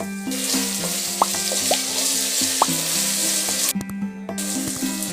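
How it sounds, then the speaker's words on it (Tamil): Ginger garlic paste sizzles loudly in hot oil for chicken biryani, with a steady crackling hiss, occasional stirring scrapes and small pops close by. "இப்போ இஞ்சி பூண்டு பேஸ்ட் போட்டு நல்லா வதக்கிடுங்க."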